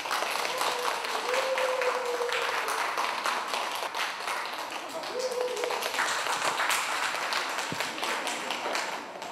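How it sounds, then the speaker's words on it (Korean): An audience claps to welcome a lecturer at a health talk, a steady, moderately distant patter of many hands lasting several seconds, with a few faint tonal sounds over it. "원장님을 큰 박수로 맞아 주시기 바랍니다"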